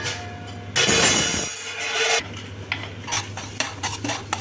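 Mashed sweet potato is roasted in ghee in a pan, stirred with a utensil: scraping and rubbing strokes, a loud burst of stirring in the middle, then lighter intermittent scrapes and taps against the pan, close and without talk.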